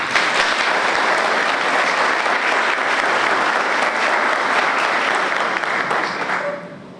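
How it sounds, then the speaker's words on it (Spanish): An audience at a law school graduation ceremony applauds graduating students, a dense sustained round of clapping that fades out near the end. "ustedes merecen un aplauso"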